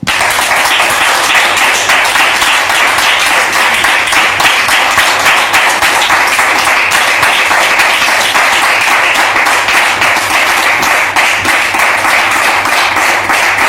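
A studio audience on a talk show claps continuously for a long stretch, loud and close, the many hands blending into an even wash of applause with no talking over it.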